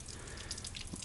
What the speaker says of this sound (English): Tank was full of water, and I'm actually draining it right now.